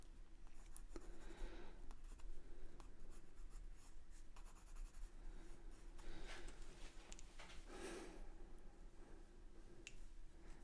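Conte Paris pastels scrape and scratch across paper during a quick portrait sketch, close, faint dry strokes in irregular bursts with occasional taps; no talking.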